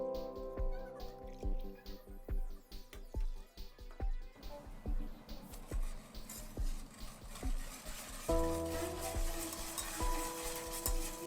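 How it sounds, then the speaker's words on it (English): A spoon scrapes and clinks in a pot while cocoa and milk are mixed for homemade Turkish chocolate pudding. The stirring comes in quiet, rhythmic strokes, with occasional faint taps against the metal and no talking. "Add 3 spoons of cocoa. First add 2 cups of milk and mix."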